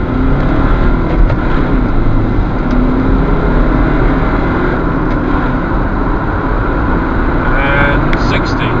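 A 2008 Honda CR-V accelerates hard from a standstill in a 0 to 60 test on a dry road, its engine a loud, steady roar from inside the cabin that holds throughout.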